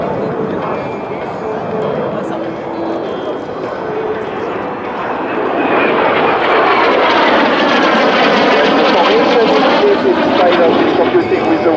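Breitling Jet Team jets performing at the Belgian Air Force Days 2018 airshow, a loud engine roar that swells halfway through into a sweeping passing whine, with voices talking over it.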